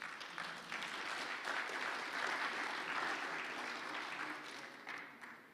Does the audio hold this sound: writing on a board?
no